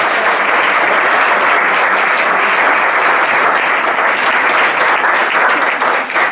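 Loud, dense crowd applause at a parish fête, steady and continuous throughout with no break or speech.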